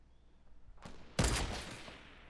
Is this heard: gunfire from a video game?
yes